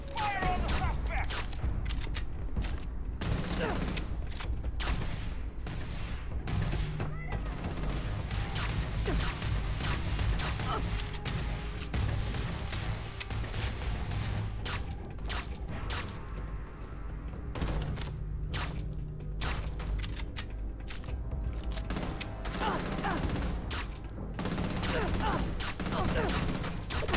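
An Innova EM blaster fires in Starfield, with rapid bursts of sharp shots and clattering impacts scattered across a busy, dense game soundscape.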